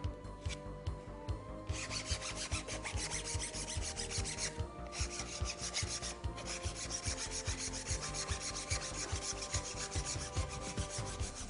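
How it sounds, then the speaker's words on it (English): Sanding off a Wetor Q-Bond repair on a wheel cover gives a rapid, rhythmic rasping scrape, close and continuous, with brief pauses between bursts of strokes. "We can sand it off."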